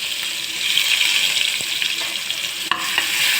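Onions and curry leaves sautéing in hot oil after mustard seeds have popped make a dense, even, close sizzle, with a few soft stirring knocks and one sharp clack near the end.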